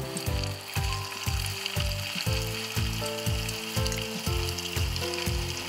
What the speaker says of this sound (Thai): ตั้งกระทะเตรียมทอดปลากันเลยครับ